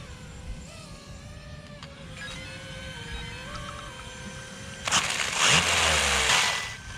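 A brushed motor in a WLtoys RC car, upgraded with a bigger motor and faster gearing on a stock ESC and a 2S battery, whines at full throttle with pitch wavering as the speed controller cuts out, then a louder harsh burst near the end.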